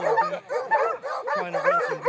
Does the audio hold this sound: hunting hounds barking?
yes